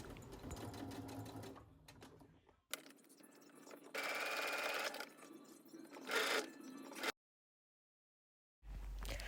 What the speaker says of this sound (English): take it over to the sewing machine. With a 1/2 inch seam allowance, I'm going to sew the shorter ends together